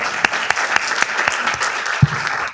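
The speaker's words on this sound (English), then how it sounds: "Let's give him a round of applause." An audience claps at a city council meeting as a longtime community development staff member is honored, sharp individual claps standing out over steady clapping, with one low thump near the end.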